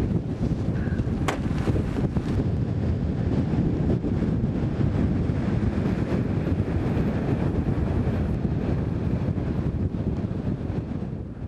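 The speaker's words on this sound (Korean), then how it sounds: "거기에 엄청나게 불어대는 바람" Strong winter wind roars across Cheonmunbong peak on Mount Baekdu at minus 29 degrees, a loud continuous buffeting rush that batters the microphone throughout, with no voices.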